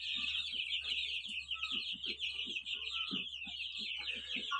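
Chickens and young chicks in a backyard coop, a dense, continuous chorus of high peeping chicks over soft, rhythmic low clucks from hens, steady and close with a low background hum.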